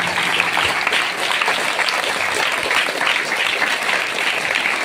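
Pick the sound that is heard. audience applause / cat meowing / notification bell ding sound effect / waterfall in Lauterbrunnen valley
audience applause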